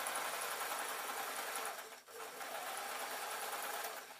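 A sewing machine runs fast and close while stitching cloth for a 3D glasses case, a dense mechanical whir with a brief pause midway before resuming.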